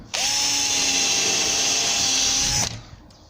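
A power drill whines steadily at high speed for over two seconds, close and loud, then winds down and stops.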